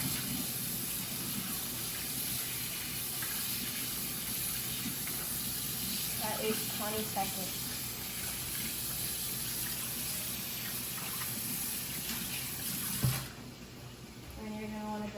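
Warm tap water runs into a kitchen sink during handwashing, a steady close hiss under a speaking voice, cutting off abruptly near the end.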